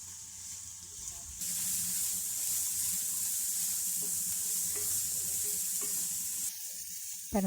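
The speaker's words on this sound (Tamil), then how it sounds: "அது ப்ரௌன் கலர் வர வரைக்கும் நல்லா வதக்கி விடணும்" Long-sliced large onions sautéing in a pan until browned, giving a steady hiss of frying with occasional soft stirring scrapes close by. There is no talk.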